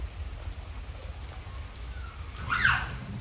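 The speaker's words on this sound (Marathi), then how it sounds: "आज दिवसभर बारीक पाऊस पडतोय." Soft, steady patter of light rain falls throughout, with a brief brighter chirp-like sound near the end.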